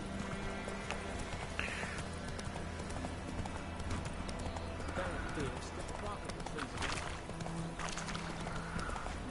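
Roach the horse gallops in The Witcher 3 video game, steady clattering hoofbeats under game music, with someone talking over the action.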